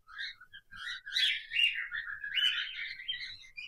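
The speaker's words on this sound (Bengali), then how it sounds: "এই হয়েছে বর্তমানে আমার ককটেল পাখি। আর কনুর পাখি আছে।" Pet cockatiels and conures chirping and tweeting close by, a busy run of overlapping bright calls and short whistles with no pause, fairly faint overall.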